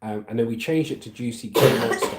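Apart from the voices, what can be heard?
coughing in the background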